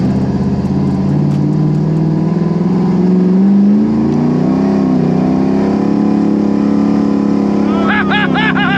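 A Chevy Camaro Z28 launches hard from a standing start in a drag-style run, its engine climbing in pitch through a long loud roar before a gear change near the end.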